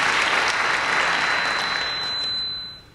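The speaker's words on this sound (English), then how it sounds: "No, no need for applause." Audience applause fills the room at an author talk, loud dense clapping that holds steady and then fades out near the end.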